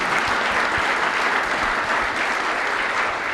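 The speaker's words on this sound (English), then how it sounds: "let's give a round of applause for these two people" A meeting audience at an AI group's monthly general meeting in Birmingham gives a round of applause, dense steady clapping filling the room throughout with no pause.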